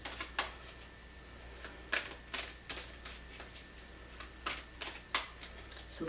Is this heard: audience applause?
no